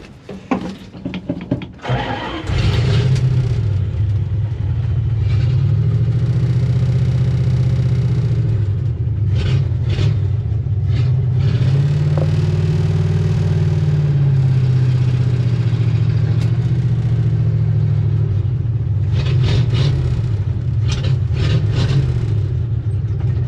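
A 1969 Dodge D100 pickup truck engine, parked for twenty years, rumbles loudly and steadily after a few uneven starting bursts, a rough low drone as the truck drives on dirt roads.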